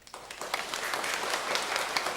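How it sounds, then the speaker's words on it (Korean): A church congregation claps in applause, a brief dense burst of many hands that starts abruptly and holds steady. "우리 박수로 격려하겠습니다"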